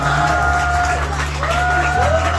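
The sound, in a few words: audience applause for class 9C performance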